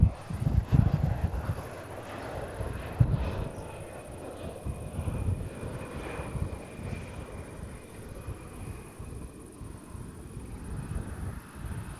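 Airliner arriving at Amsterdam Airport Schiphol in strong westerly wind, a distant low engine rumble that swells then fades under steady wind buffeting on the microphone.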